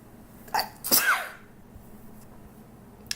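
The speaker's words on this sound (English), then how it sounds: "Oh, I can't stop sneezing." A single sharp sneeze bursts out close to the mic after a smaller breathy intake, followed by quiet room tone and a faint click at the end.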